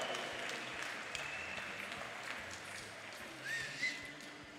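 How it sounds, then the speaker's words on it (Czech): An audience at an amateur K-1 kickboxing event claps after a round in a hall, with a sustained, moderately distant wash of applause and a couple of faint whistles. "toto kolo si zaslouží mnohem větší potlesk"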